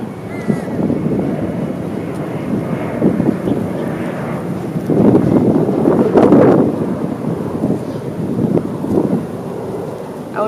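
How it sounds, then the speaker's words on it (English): A broad, rumbling airplane drone passes overhead outdoors, swelling louder in the middle before easing off, with a wind-like roar over the microphone and no speech. "There we got the airplane again."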